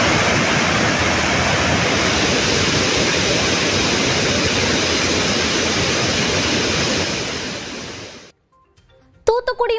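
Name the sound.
Manimuthar waterfall with heavy water flow after rain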